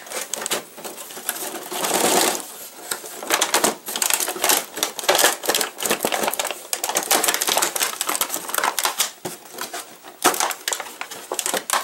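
Soft plastic toy tray from Transformers Combiner Wars G1-color Megatron packaging, crackling and clicking in rapid, irregular bursts as it is pried loose, close up and fairly loud with no talk.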